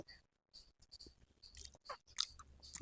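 Close-up chewing of cooked water lily root (shaluk), soft wet bites and crunchy mastication coming in short bursts with brief pauses, alone and near.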